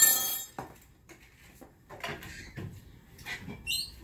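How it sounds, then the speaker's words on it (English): Salt stirred into dried legumes in a pot: a few scattered clinks and scrapes of a spoon against the pot, fairly soft and irregular, with quiet gaps between strokes and no talking. "Stir it up a little bit."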